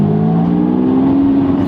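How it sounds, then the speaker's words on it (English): A Lamborghini Revuelto V12 fitted with a QuickSilver cat-back exhaust makes a loud, steady mid-range drone, heard from inside the cabin at an even engine speed without sharp revs. "there's a V12 sort of howl at the back, but it's not coming through into the cabin horribly"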